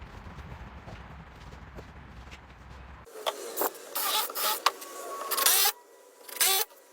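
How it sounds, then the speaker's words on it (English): Cabinet carcasses being screwed through their nailers into wall studs while a kitchen or shop unit is installed, heard as several loud, close bursts of a power driver, each spinning briefly, after a quiet stretch of room tone. "find the studs, and screw this into the wall through the nailers"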